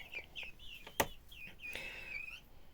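Small birds chirp and tweet at a feeder, with a series of short, high, rising calls scattered across the moment and one sharp click near the middle, fairly close and soft.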